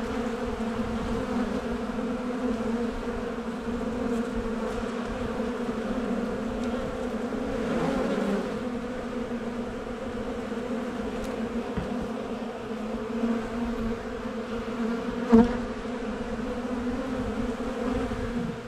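Honeybees fighting on a hive comb, with a robbing hive nearby, make a continuous close buzzing drone that swells slightly midway, with no voices.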